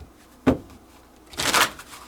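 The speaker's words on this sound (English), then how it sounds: "Let's do a little pre-shuffle with that then." A Shadows of the Middle Ages Oracle card deck is shuffled by hand: one short sharp riffle snap, a pause, then a longer fluttering shuffle, close and clear.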